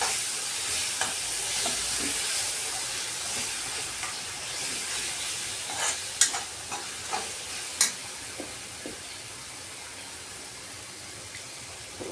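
Cluster beans tipped into a tomato gravy in a pan and stirred in, giving a steady close sizzling hiss broken by soft spoon scrapes and a few brighter clacks, with no voices.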